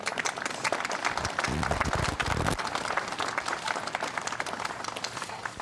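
A room full of people breaks into sustained applause at a county government meeting honoring veterans in the workforce, a dense steady patter of many hands with a few louder claps near the middle.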